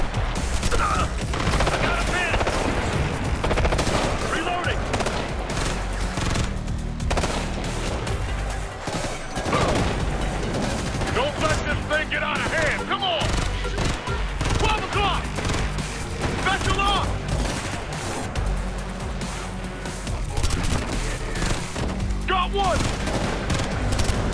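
Enemy turret gunfire in the shooter video game Ghost Recon: Future Soldier, a dense, loud stream of rapid automatic shots and impacts, mixed with crashes and explosions, that runs continuously under scattered shouted voices.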